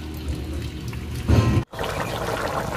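Water is poured into a pot of green jackfruit and potato curry, cooked with prawns, in a short splashing burst of about a second with a steady cooking rumble before and after.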